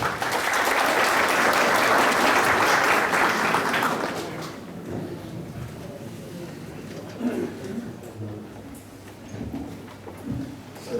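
Audience at a 2014 Kurban Bayramı program applauds as an association chairman is welcomed onto the stage, a dense, loud burst of clapping for about four seconds that then fades into scattered claps and murmuring.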